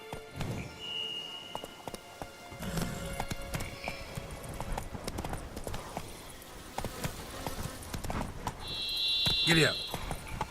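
A horse gallops in The Witcher 3 with a rapid, steady clip-clop of hooves close by, mixed with game ambience and a bright electronic tone near the end.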